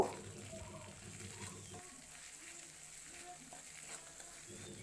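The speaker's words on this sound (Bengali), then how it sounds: "মশলা কষাতে কষাতে আমি এর মধ্যে একই সাথে দেব পরিমাণ মতো নুন আর হলুদ নাড়াচাড়া করে নেব" Spice masala with salt and turmeric frying in a pan as it is stirred, a low, steady sizzle with light scraping, faint and close, no voices.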